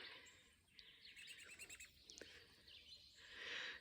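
Birds near a garden bird feeder give a few quick, faint chirps and tweets over soft outdoor background noise, with no voices.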